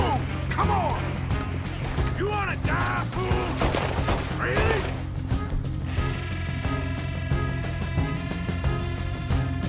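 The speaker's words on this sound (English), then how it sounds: "Shooting till nothing moves." Gunfire in the Western video game Red Dead Redemption 2, a loud dense volley of shots and impacts crackling for several seconds, then a sustained tonal game soundscape underneath, with voices talking throughout.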